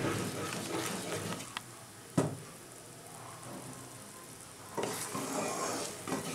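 Bengali-style wood apple chutney bubbles in a pan on a gas stove: a soft, steady simmering hiss with a few sharp clicks of a spoon or pan, fading quieter midway before picking back up.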